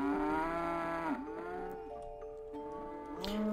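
Cows in the farming game Settlement Survival moo in long, low, drawn-out calls, one after another, heard clearly over a steady game-music backdrop with no talking.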